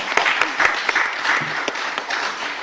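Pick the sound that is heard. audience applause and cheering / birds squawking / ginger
audience applause and cheering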